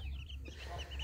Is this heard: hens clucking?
yes